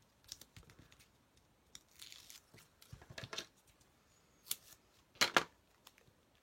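Scissors snipping paper for a handmade birthday card, a series of quiet, close, crisp cuts coming in irregular clusters with paper rustling between them.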